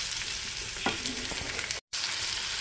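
Onions sautéing in a pan for a pomfret fish curry, giving a steady, close frying hiss with a couple of soft stirring scrapes and a brief dropout near the end, no speech.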